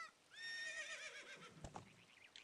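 A horse whinnies in Zelda: Ocarina of Time, a loud rising and falling neigh with a quick snort and a faint clip-clop of hooves near the end, with no talking over it.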